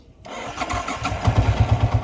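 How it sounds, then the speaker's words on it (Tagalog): A motorcycle engine cranks and catches after a brief silence, then settles into a loud, pulsing idle close by. "Start natin yung motor."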